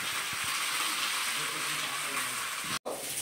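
Fish fries in a Gaip multi maker, a dense, even sizzle that hisses steadily before cutting out abruptly for a moment near the end.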